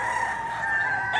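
A rooster crows in a drawn-out, strained call, fairly close, with faint background noise, at a chicken market in Padre Garcia, Batangas.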